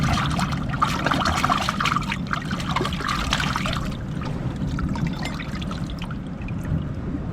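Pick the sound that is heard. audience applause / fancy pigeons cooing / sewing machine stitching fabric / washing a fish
washing a fish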